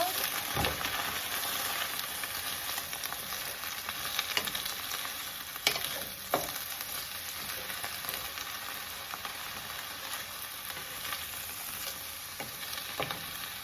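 Spinach and other vegetables fry in a pan for a meatless dinner, giving a steady, fairly soft sizzle. An occasional utensil scrape or tap stands out from the continuous crackling hiss.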